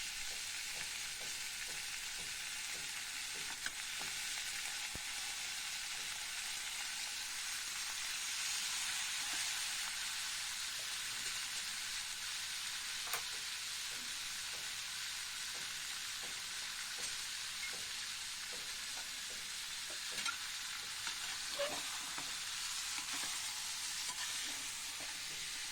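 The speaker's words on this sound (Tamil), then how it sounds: "கத்திரிக்காய் போட்டு கத்திரிக்காயும் நல்லா வதக்கணும்." Brinjal pieces sauté with onion and tomato in a pan, giving a steady, continuous sizzle and crackle throughout, with occasional soft stirring taps and no voices.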